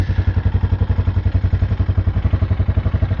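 An old quad ATV engine idles low and steady with a loping, slightly uneven putter, close up and alone for the whole stretch.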